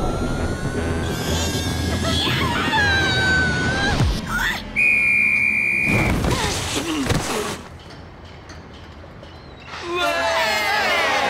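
Referee's whistle in a cartoon football match, one steady shrill blast of about a second ending play, set among busy cartoon sound effects and voices.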